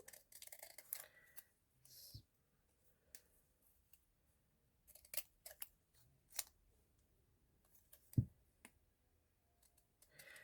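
Scissors trimming a sticker in a quiet room, a series of short, sharp snips and clicks at irregular intervals, close and isolated.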